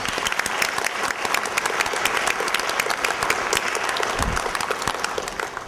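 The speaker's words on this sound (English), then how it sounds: "Can we get one more round of applause for all of our speakers," Audience applause for the speakers at a panel discussion: steady, dense clapping from a sizable crowd that fills the whole stretch at an even level, with no talking over it.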